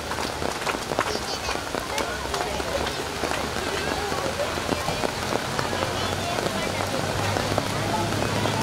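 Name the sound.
rain falling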